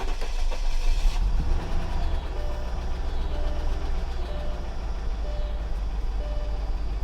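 A Mercedes S55 AMG engine turns over and settles into a rough, uneven idle, a low steady rumble close by with no talking.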